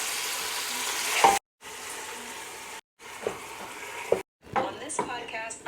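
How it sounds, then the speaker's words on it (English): Ground beef browning in olive oil in a pan, a steady hiss of sizzling broken by short gaps, with stirring scrapes and a voice talking briefly. "That's a good sizzle. I'm just gonna brown it."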